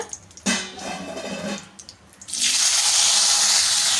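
Water tap running and draining soaked cut eggplant in a kitchen sink, starting with scattered splashes and drips, then a loud steady gush of water near the end, with no talk.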